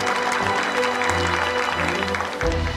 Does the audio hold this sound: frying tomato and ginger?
no